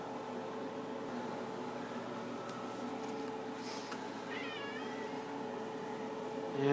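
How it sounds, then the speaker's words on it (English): A pet cat named Yarns meows several times at close range, rising and falling cries standing out over a steady fan-like hum in a room. "my cat's meowing at us"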